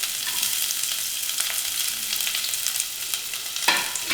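Garlic, curry leaves, onion and a dried red chili sizzle in hot oil in a pan, a steady bright crackling hiss with a scrape of stirring near the end.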